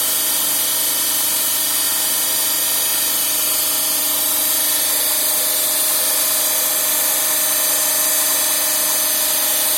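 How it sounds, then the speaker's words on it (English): A DC shunt motor runs steadily at 1500 RPM with no load, giving a constant, even hum and whine with fixed tones and no change in level. "Now the motor is kept at the no load condition. It is running at the 1500 RPM."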